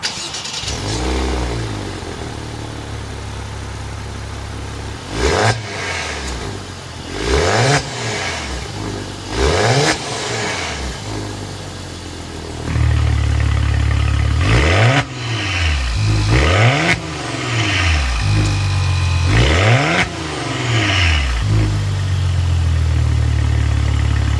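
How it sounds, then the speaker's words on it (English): Repeated engine revs from the twin-turbo V6 exhaust of a 2023 Maserati Levante GT, climbing and dropping about eight times with a deep idle rumble between them, close and loud. "You get an exhaust note out of the twin turbo V6."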